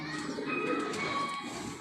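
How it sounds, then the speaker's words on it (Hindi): Round-tailed (gol gheda) pigeons coo in a steady, soft murmur, several birds close by with faint background voices. "ये कबूतर जो है ये गोल घेड़े के कबूतर हैं।"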